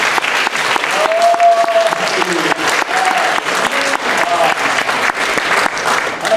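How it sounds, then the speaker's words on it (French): Church congregation bursts into sustained applause, loud and dense throughout, with a few short tonal whistles or cheers rising above the clapping. "Est-ce qu'on peut donner une bonne main d'applaudissement?"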